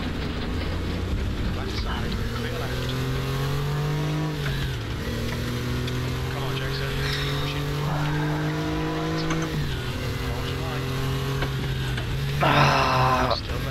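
A Porsche 964 racing at Bathurst in the RaceRoom video game, its engine droning steadily and rising and falling through gear changes, with a brief tire squeal near the end under a voice commenting throughout.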